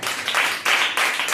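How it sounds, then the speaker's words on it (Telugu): A church congregation claps loudly together in a quick, steady rhythm of bright, dense hand claps filling the room. "గట్టిగా చప్పట్లు కొడదాం."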